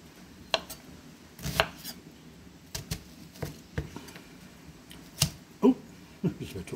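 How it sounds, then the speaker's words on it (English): A knife cuts onions into half rings on a board, producing sparse, separate chopping thuds and taps spaced irregularly, close and moderately loud with no talking. "we've got a couple of onions here and we're just going to slice them up to half rings"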